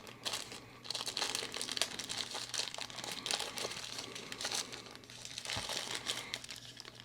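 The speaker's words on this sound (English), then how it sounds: "ASMR sound of me opening a lens" Close, quiet crinkling and rustling of packaging as a wide angle lens for a Canon G7X Mark II/Mark III is unboxed, with irregular crackles and soft crunches throughout.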